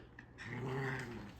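A dog growls on command to speak, giving a short, close, low rumbling growl that lasts about a second.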